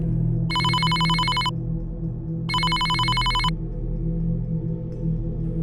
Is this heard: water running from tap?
no